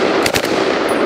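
AK-47 rifle firing on automatic, a short rapid burst of loud sharp shots close up.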